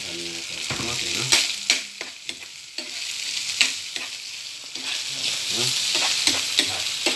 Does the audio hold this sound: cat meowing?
no